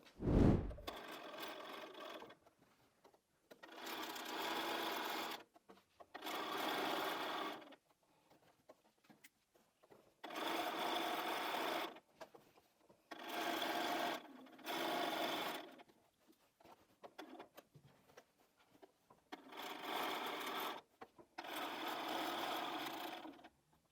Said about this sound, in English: So I've sewn that seam there and I've stopped where my 2 pins were.